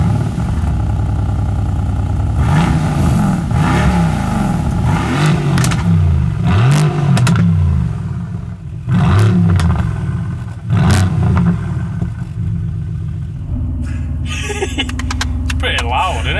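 A Mercedes-AMG GT R's engine revs loudly in repeated surging bursts, with crackling pops between rises, close and dominant before settling to a lower drone.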